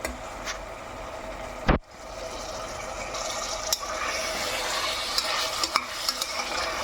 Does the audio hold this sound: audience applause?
no